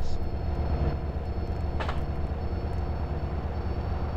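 A train in GTA San Andreas rumbles along with a steady low roar and rattling, loud and continuous, with a faint high whine above it.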